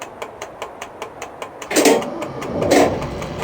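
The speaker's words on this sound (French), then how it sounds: "Je vais maintenant allumer le moteur." A diesel locomotive on the Grenoble–Veynes Alpine line starts up: a string of regular ticking clicks gives way to a louder, rough churning rumble as the engine catches and runs close by.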